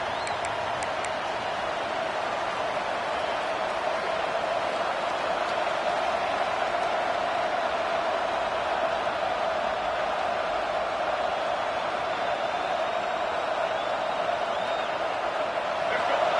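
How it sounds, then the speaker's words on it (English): A football stadium crowd roars in a steady, dense wall of cheering that holds unbroken throughout, loud and diffuse with no single voice standing out. "This crowd bringing an ear-splitting welcome to their visitors."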